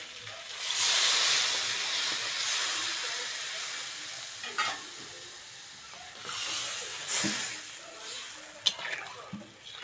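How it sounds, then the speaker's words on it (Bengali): Spicy Bengali fish curry broth with chili powder boils in a pan, giving a steady hiss and sizzle of steam with a few sharp clinks and bubbling pops. "ঝাল ভালোভাবে ফুটে গেছে"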